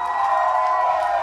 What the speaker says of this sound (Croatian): Molim pozdraviti jednim pljeskom Adriana Gola!